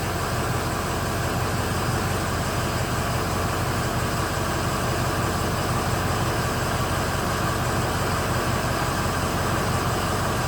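A 2007 Ford F250 6.0 diesel engine with glow plug and FICM fault codes runs steadily during a glow plug monitor self-test, a constant loud mechanical drone with no variation.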